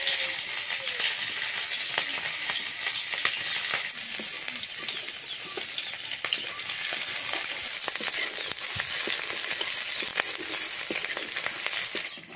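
Onion frying in hot oil, a steady loud sizzle with crackling pops and occasional stirring scrapes that runs continuously close up, with no talking.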